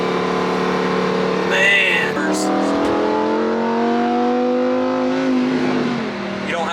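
A Lamborghini Huracan Evo accelerates hard from inside the cabin, engine pitch climbing in rising sweeps broken by quick gear shifts, loud and close, with a man's brief exclamation and talk over it.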